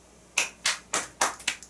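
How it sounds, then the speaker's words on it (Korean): Six sharp hand claps in a steady, even rhythm, close and fairly loud, ring out in a quiet classroom during a math lesson, with no talking. "박수."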